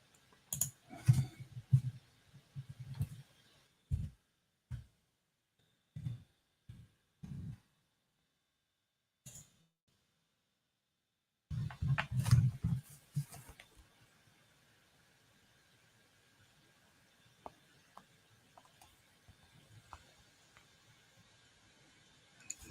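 Typing on a computer keyboard during a live forex trading session, with scattered bursts of soft clicking separated by pauses of near silence, faint and close.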